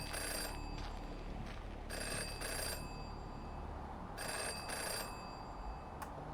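A telephone rings in the video game Jenny LeClue, sounding as repeated pairs of bright electronic bell bursts with short gaps between them, over a low steady background hum, with no talking.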